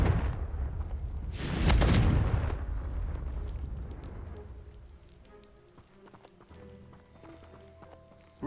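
Confringo blasting spell exploding in the video game Hogwarts Legacy, a single loud burst with a booming rumble that rolls off into a fading crackling tail, followed by quiet scattered debris-like ticks.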